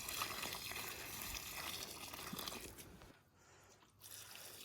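Liquid chicken-manure fertilizer solution poured under rose bushes, a steady splashing gush that runs for about three seconds, stops briefly, then resumes more quietly, with no speech.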